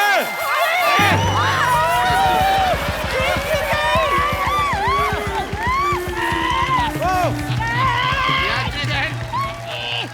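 A studio audience at a comedy show claps in a fast, steady rhythm for several seconds, mixed with loud shouting, laughter and talking voices over the top.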